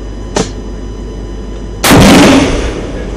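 BGM-71 TOW missile fired by soldiers in training, a brief sharp crack followed by a loud, sustained blast and whoosh of the launch that slowly fades.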